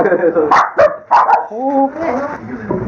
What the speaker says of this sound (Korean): 사무실에 있던 강아지들이 요란하게 짖기 시작하고